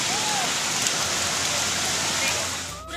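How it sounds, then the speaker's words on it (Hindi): Waterfall in a dense forest near Devri village, Balod: a steady, close broadband rush of falling water, continuous and fairly loud throughout. "पूरा नीचे झरना ही झरना हरे।"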